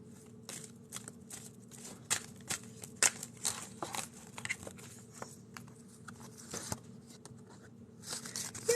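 Soft, rapid riffling and flicking of a deck of cards being shuffled, repeated in quick bursts at close range with no talking.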